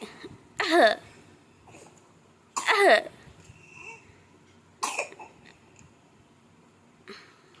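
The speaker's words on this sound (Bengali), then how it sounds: "কাশি হয়েছে" Three sharp, close coughs spaced a couple of seconds apart, followed by a fainter fourth, with quiet in between.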